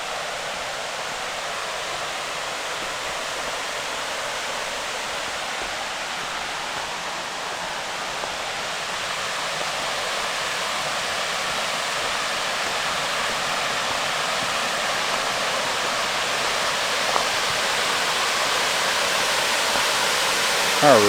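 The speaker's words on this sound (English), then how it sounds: "you can probably hear that very loud waterfall" A loud, steady roar of a waterfall, a continuous broadband rush that grows slightly louder over time while walking down steps toward it, recorded on a GoPro.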